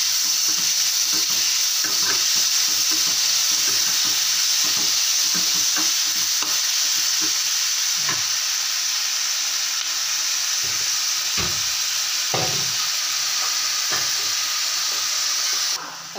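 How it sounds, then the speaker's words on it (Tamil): Chopped ripe tomatoes, salted, fry and sizzle steadily in a pan while making a crab gravy, with frequent stirring clicks and scrapes over the constant loud hiss; no talk. "நல்லா பழமாக உள்ள 2 தக்காளி கட் பண்ணி போட்டிருக்கோம்."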